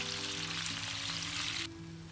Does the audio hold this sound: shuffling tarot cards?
no